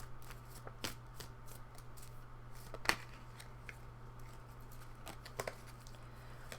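Tarot cards are shuffled and drawn in a quiet room, with soft, scattered riffling and flicking sounds plus a few sharper card snaps over a steady low hum.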